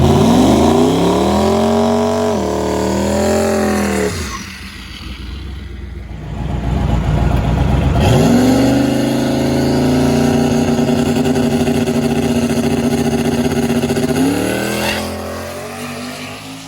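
A turbocharged Mustang running on E85 sits on the trans brake, its engine banging and revving hard before it launches into a loud, sustained full-throttle run, rising in pitch through the gears, then backing off near the end.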